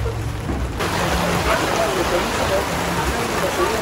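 Heavy rain pours down in a steady, dense hiss while the sun shines in Croatia, with a faint voice in the background.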